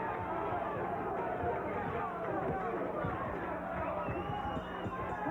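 Dense crowd noise from spectators at a 1997 boxing bout at The Roxy in Boston, a steady loud roar and chatter that holds for the whole stretch as the final seconds end.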